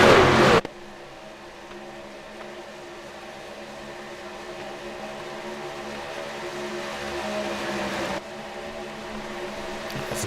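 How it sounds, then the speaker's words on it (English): Race trucks in a pack roar side by side around the banking at Daytona International Speedway, a continuous loud engine drone that swells and shifts as the field passes, with a brief cut near the end. "Trucks head into turn 3."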